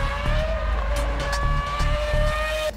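A Ferrari Formula 1 car on track at Mugello during a test, heard as a continuous high-pitched engine whine under a low rumble, with regular rises in pitch and short throttle bursts as it accelerates.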